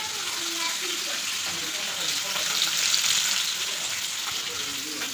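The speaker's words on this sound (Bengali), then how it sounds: "তো মাছও নিয়ে এসেছিলাম, সেই মাছগুলো এখন ভাজা করছি।" Fish frying in a pan in a home kitchen makes a steady, close, bubbling sizzle that swells slightly midway and holds without pause.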